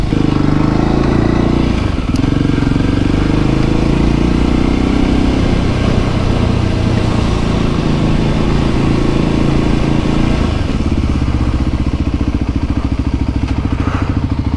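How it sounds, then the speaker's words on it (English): A Voge 300 Rally motorcycle with long-travel suspension, a 21-inch front wheel and knobbly tyres ridden over rough ground, its engine droning steadily and close by with occasional clattering bumps throughout. "we'll try her on a bit of the rough stuff."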